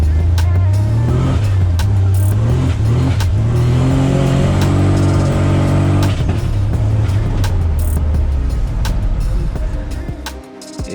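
A car with a T56 manual gearbox accelerates hard and loud, the engine climbing in pitch through gears with short dips at each shift, then easing off and settling near the end.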